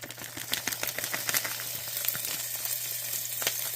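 Ground beef sizzles and crackles in a hot skillet, a steady frying hiss dotted with sharp pops and spits, fairly close and moderately quiet with no talking.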